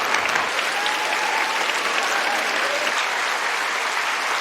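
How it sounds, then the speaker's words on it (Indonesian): An audience claps loudly and steadily after a piano performance in a concert hall scene from the film Your Lie in April, with dense continuous applause throughout. "Kosei dan Kaori mendapatkan tepuk tangan yang meriah dari para penonton mereka"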